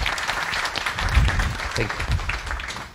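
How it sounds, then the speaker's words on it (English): An audience applauds after a conference talk on IPv6, a dense wash of clapping from a crowd, while a voice speaks briefly over it. "applause, of course."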